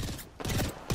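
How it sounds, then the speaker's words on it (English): Enemy gunfire in a shooter video game, with short loud bursts of shots that break off briefly and then start again. "They're shooting at me."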